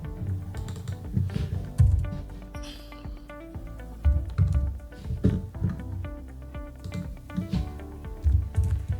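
Fingers tapping on a computer keyboard with an English layout, close and irregular bursts of keystrokes with short pauses, over faint background music.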